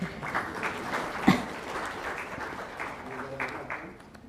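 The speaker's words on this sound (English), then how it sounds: "I think you'll all clap to that." Applause from a lecture audience fills the space, a dense patter of many hands clapping, moderately loud and continuing steadily.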